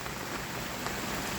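Heavy monsoon rain falls as a steady, dense hiss that stays even throughout the short stretch, with no voices.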